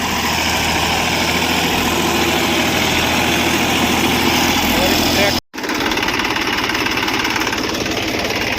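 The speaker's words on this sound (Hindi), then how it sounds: "जब तक मैं चलाऊँगा ट्रैक्टर।" A tractor engine runs on a farm at a constant, loud, close drone with a rough rumbling vibration, briefly cutting out for an instant midway before resuming.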